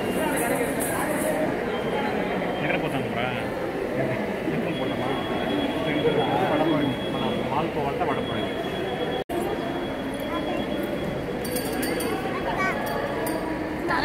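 Metro train ambience at a Chennai Metro Blue Line station by the international airport: a steady, loud rumble of rail and platform noise throughout, with people talking underneath and a brief dropout near the middle.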